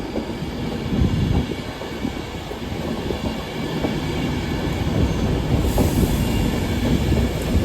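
Train 39131 to London Euston pulls out of Carlisle station, a loud, close, continuous rumble of wheels and carriages with faint squeal and rhythmic clacking building steadily.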